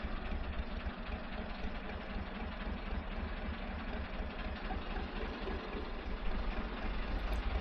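A narrowboat's diesel engine idles steadily in a manned lock on the River Thames, a continuous low knocking chug with constant loudness throughout and no talk over it.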